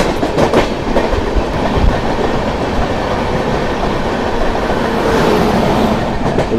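Indian express train with diesel locomotive passing close by during an overtake, a loud continuous rumble with rhythmic clickety-clack of wheels over rail joints and faint wheel squeal, no talking.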